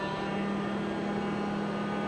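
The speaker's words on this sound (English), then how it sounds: "That's the noise you hear from this machine." A HydroVayne variable speed air compressor runs at a low, steady level, giving a constant hum with a faint mechanical drone and no talking.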